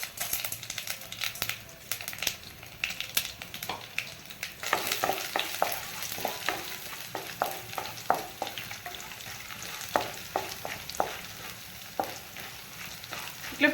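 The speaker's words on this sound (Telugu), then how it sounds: "ఇట్లా ఫ్రై చేసుకోవాలండి. కొంచెం బ్రౌన్ వచ్చే వరకు ఫ్రై చేయాలి." Okra fry tempering in a pan: mustard seeds, garlic and chana dal sizzle and crackle in hot oil, a steady frying hiss broken by sharp pops and stirring scrapes, fairly quiet and close, with no talk.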